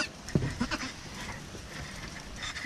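A newborn goat kid bleats in a barn, several faint thin cries over a murmuring room background with no clear talk.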